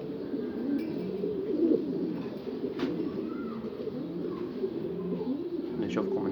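A flock of Egyptian pigeons coos continuously at close range, a low throaty rolling murmur from many birds overlapping, with occasional faint chirps and someone speaking over it.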